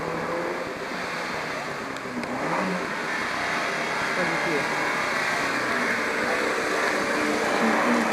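A Honda City race car drives at a Nagano motorsport track during a series event, its engine a continuous, moderately distant roar blended with broad wind-like rushing noise.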